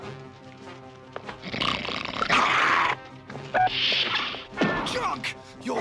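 A cartoon dog attacks with snarling, growling roars and barks, loud and close, mixed with thumps and crashing scuffle sounds in two bursts over a music-like background.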